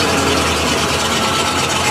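Small motorized wheelbarrow engine idling in a shop, running rough, with a loud, steady low exhaust drone and constant vibration close by, no voices over it.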